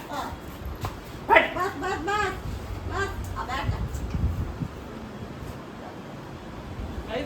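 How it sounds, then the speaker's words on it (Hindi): A dog gives a short run of close barks and yelps, with people talking around it in a home. "तो भौंक रही है बदतमीज कुत्ता कहीं का"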